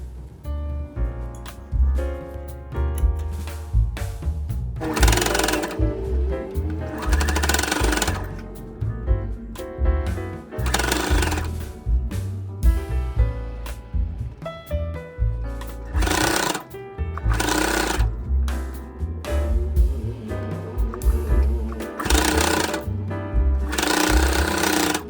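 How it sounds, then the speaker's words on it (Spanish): A sewing machine stitches a fabric crossbody bag, its rapid mechanical hum running steadily in long bursts separated by brief pauses, close and clear with no talking. "Lo coso en la parte de atrás."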